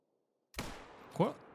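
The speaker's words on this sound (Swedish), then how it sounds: "Nu hör jag att du skjuter" Two sharp rifle shots in the video game theHunter: Call of the Wild ring out a short moment apart, fairly faint, the second followed by a brief ringing tail, with silence before.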